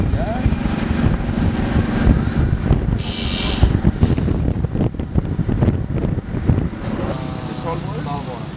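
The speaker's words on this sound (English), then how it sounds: "we're on a motorcycle and I'm just videotaping a little bit as we're driving along" Steady motorcycle engine rumble and wind buffeting while riding in Cambodia, with broadband roar throughout and a brief higher whine midway.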